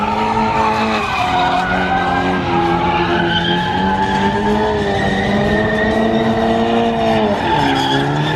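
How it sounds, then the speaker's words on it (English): Tires squeal loudly and continuously under a steady engine roar, the pitch wavering as a damaged Ford Mustang spins its wheels in place. "Oh, he paid money to shred his tires."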